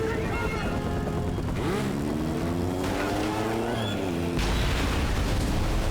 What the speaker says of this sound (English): he's calling a smart bomb down below, and it's about to come in